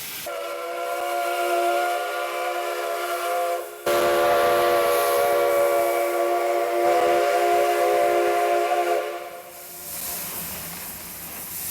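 Oil-fired RENFE steam locomotive hauling a train through the Vigo docks in Spain, a loud continuous steam whistle blowing over rolling hiss and rumble, briefly cut near four seconds and fading toward the end.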